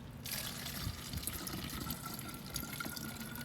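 Water from a fish tank poured onto trays of microgreens, a steady close trickling and splashing stream that runs continuously with small gurgles and drips.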